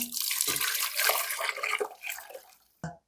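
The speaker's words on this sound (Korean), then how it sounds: "자, 다시 물 다섯 컵 넣고요." Five cups of stock splash and pour into a pot for a dried pollock stew, a close, continuous gurgling stream with a few brief knocks before it stops.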